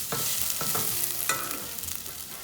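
Onions frying in a pan for a curry-spiced tandoori ball recipe, a soft sizzle under a few short clattering stirs, close and moderately loud with no talking.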